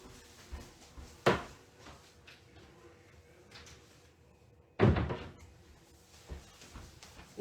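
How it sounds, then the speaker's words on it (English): A room door pushed shut, giving two sharp thuds a few seconds apart amid quiet handling noises. "Need to close my door."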